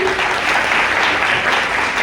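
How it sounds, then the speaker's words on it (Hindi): A crowd claps loudly and steadily at a company information meeting, a dense continuous patter filling the whole moment. "एक बार जोरदार ताली होनी चाहिए"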